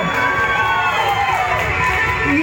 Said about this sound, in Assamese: ইয়াৰ কাৰণে আৰু এটা ডাঙৰ হাত চাপৰি দি দিয়ক